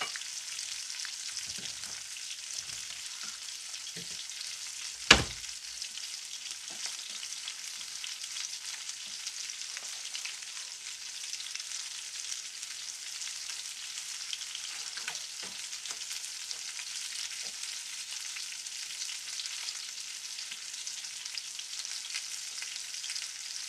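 Cornmeal-coated fish fries in hot oil with no flour in the coating, a constant dense crackling sizzle running throughout, with a single sharp knock near the start and occasional soft bumps.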